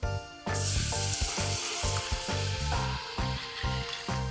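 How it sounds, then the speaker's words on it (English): Warm milk poured into a hot, sizzling pan for lobster mac and cheese, a loud steady frying hiss that surges in and keeps crackling close by, with no talking. "I'm gonna go ahead and add the warm milk."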